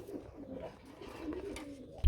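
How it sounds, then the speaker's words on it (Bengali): Soft, low cooing murmurs from a pair of grizzle pigeons close by, a muffled rolling call that ends with a short thump. "এখানে একজোড়া গ্রিজেল কবুতর রয়েছে"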